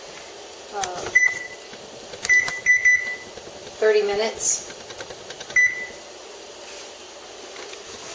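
A few short electronic beeps from an oven timer keypad, spaced apart, with a person talking between them.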